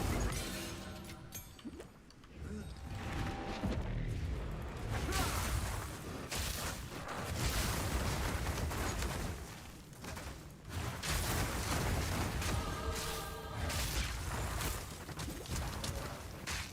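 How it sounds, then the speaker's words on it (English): Chained area-of-effect explosions in the action RPG Path of Exile 2 from a shatter-thorns monk build, dense bursts of shattering crashes and whooshes overlapping constantly at moderate level. "Because it is an explosion."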